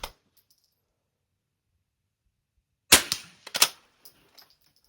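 Rifle shots in an NRL22 .22 rimfire match, aimed at half and quarter targets: after a quiet pause, two sharp close cracks a fraction of a second apart, each trailed by brief rattling echoes.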